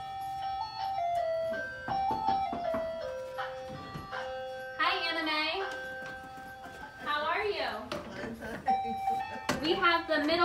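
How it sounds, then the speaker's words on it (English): An ice cream truck plays its melodic chime jingle at a residential community event. The note sequences come through loud and clear, broken up by bursts of people talking and excited voices. "Marissa, did you hear that? I think it's the ice cream truck"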